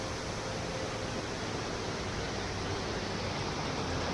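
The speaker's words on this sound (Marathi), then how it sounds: "हा आहे धबधब्याची वरची बाजू" Savdav waterfall near Kankavali in Sindhudurg, Konkan, heard from its upper side: a steady, loud, broadband rush of falling water that holds evenly throughout with no pauses.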